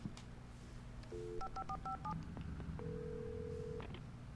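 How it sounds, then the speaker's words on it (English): A phone dials in the video game Alan Wake Remastered: a quick run of touch-tone beeps followed by a steady ringing tone, quiet and clean over faint background hum. "Alright, let's call this phone."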